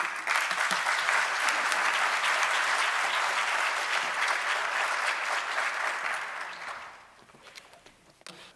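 Sustained applause from a conference audience greeting a closing keynote speaker, a dense even wash of clapping for about seven seconds that then thins and fades out.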